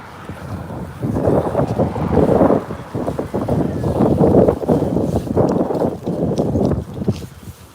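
Strong outdoor wind on a cloudy day buffets the microphone in loud, uneven gusts that rise and fall over a steady rushing roar.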